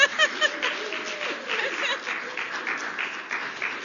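An audience at a talk applauds in a short patter of clapping mixed with light chuckles and laughter, moderately close and fading to a softer spread of claps.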